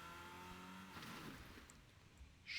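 A car engine in Fortnite revs and speeds off, a steady tone that climbs and then fades. It is fairly quiet overall, with a short louder burst at the end.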